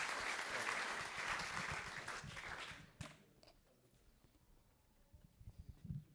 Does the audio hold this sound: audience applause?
yes